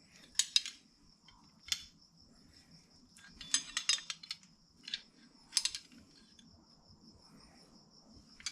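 A plastic vent tube extension for a blow-through Holley carburetor being cut, giving sharp snipping clicks in small separate clusters with pauses between, fairly close and clear over a faint low background hum.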